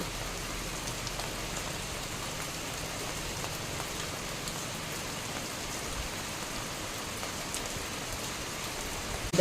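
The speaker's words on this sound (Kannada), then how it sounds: "ನೋಡಿ ತುಂಬ ಜೋರು ಮಳೆ ಬರ್ತಾ ಇದೆ" Steady, dense hiss of heavy rain pouring down, constant and unbroken throughout with no voices.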